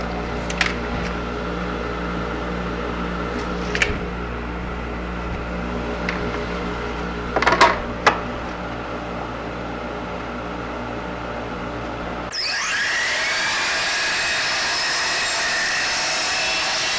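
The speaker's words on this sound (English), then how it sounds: "So we're going to go over to the table saw and get that cut." A table saw cuts wood for a drawer, its motor running with a steady, even drone that shifts to a rougher, broader roar near the end. A few faint knocks come through at close range.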